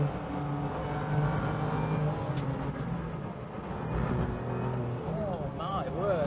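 A 580hp BMW M2 lapping a track on a cold day, its engine droning steadily in the cabin and rising into a revving whine near the end, with a voice talking over it.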